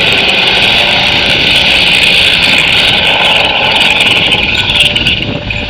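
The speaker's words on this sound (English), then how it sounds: "let me see this helicopter as it flies" A helicopter in a computer graphics animation, heard as a loud, steady engine drone with an unbroken whirring hum throughout and no voices.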